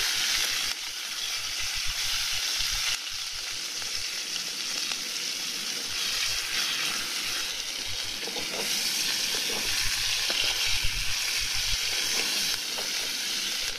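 Asparagus frying in a pan during a storm, a steady close sizzle and hiss that holds continuously, with light stirring movement and no voices.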